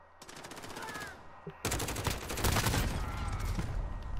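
Rapid automatic AK-47 gunfire in the video game Rust, bursts of loud repeated shots with a brief pause before a sustained, denser stream of fire.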